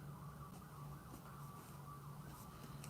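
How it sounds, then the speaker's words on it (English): Emergency sirens outside, faint and distant, a wavering wail under a low room hum, with a few soft clicks nearby. "if you can hear the sirens"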